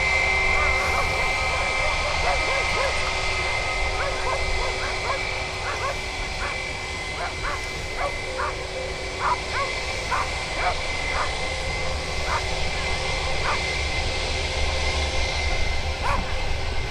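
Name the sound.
airplane at Birmingham Airport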